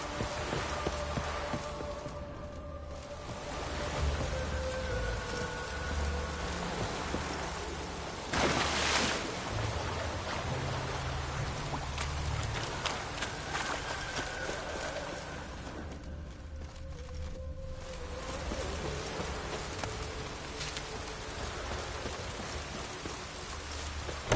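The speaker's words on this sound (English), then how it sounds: "No use doing any work in this rain." Steady rain falls in The Witcher video game, a constant hiss of drops on surfaces with brief louder gusts and faint background tones, and no one speaks.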